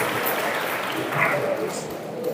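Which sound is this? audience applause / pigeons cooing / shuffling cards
audience applause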